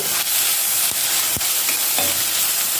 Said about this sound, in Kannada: ಸ್ವಲ್ಪ ಉಪ್ಪು ಹಾಕಿ ಎಲ್ಲ ಮಿಕ್ಸ್ ಮಾಡಿಕೊಳ್ಳಿ